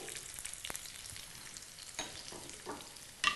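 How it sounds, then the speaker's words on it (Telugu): Chopped green chillies and onions sizzle in hot oil for masala prawns, a soft, steady frying hiss with a few sharper crackles and spatters, fairly quiet and without voices. "ఇందులో ముందుగా కట్ చేసి పెట్టుకున్న పచ్చిమిర్చి అలాగే కట్ చేసి పెట్టుకున్న ఆనియన్స్ వేసుకోవాలి"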